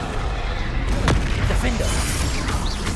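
Bombarda and Confringo spell blasts in the Hogwarts Legacy video game, heavy booming bursts that land in quick succession over a dense, noisy battle mix.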